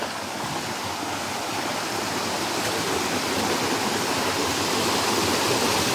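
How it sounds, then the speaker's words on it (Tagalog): Strong current rushing through a forest stream in the Philippines, a loud, dense, continuous roar of water close by with no break. "Lakas ng agos guys."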